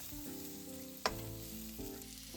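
Japanese leek, minced garlic and ginger frying in a pan for twice-cooked pork, a steady close sizzle with one sharp clink of a utensil partway through and a few soft shifts of the food.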